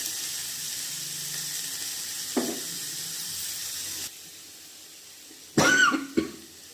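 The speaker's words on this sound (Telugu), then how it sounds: "బాగా దగ్గు వస్తుంది." A single short cough, then after a quieter stretch a louder burst of coughing with a second cough close behind, over faint kitchen background noise.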